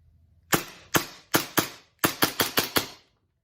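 Elite Force Glock 17 Gen 5 airsoft pistol fires ten sharp, close, loud shots alone: a group of four spaced shots, then a quicker string of six.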